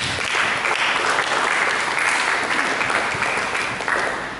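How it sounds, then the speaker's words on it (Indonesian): A church congregation claps together in sustained, even applause, moderately loud and dense from start to finish with no speech over it. "Mari kita beri tepuk tangan."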